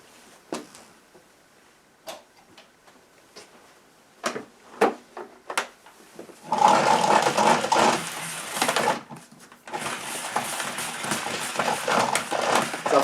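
Numatic Henry Pet vacuum cleaner's 10-metre power cord being wound up onto the machine, starting with scattered clicks and knocks, then two long stretches of steady rattling, whirring winding noise, fairly close and loud with no talk.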